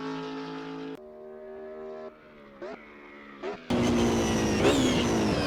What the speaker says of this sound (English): the BMW streaks through Bentley with stunning speed